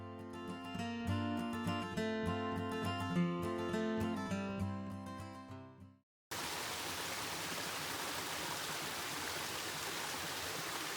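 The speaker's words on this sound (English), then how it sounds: "You got us a waterfall." A waterfall and mountain stream on the Appalachian Trail near Erwin, Tennessee, as a steady, full rush of falling water that starts suddenly after about six seconds of music and keeps going, close and loud.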